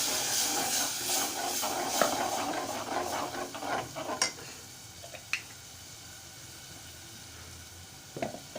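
Ground masala paste added to a hot pan for Malvani crab curry, a loud hissing sizzle that gradually fades, with scattered scraping stirs and clinks, no talking.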